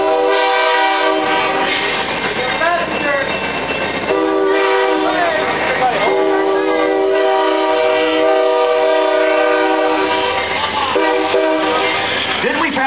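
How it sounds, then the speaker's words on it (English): An Amtrak train passes close by, its horn blaring in a loud sustained chord that swells and repeats over the rumble of rail cars, with voices talking underneath. "Oh, it's an Amtrak train."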